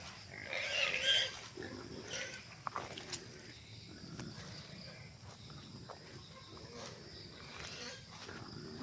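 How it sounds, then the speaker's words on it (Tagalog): Wild boar on a farm lot in Pagsanjan, Laguna, giving low grunts and a few squeals, fairly faint and set among chirping insects and outdoor ambience. "Merong baboy ramo."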